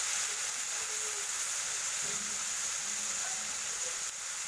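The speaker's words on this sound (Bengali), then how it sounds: "এই পরিমাণ মতন জলটা আমি ঢেলে দিলাম" Water hits a hot pan of frying food, and a loud, steady sizzle and hiss fills the whole stretch without easing.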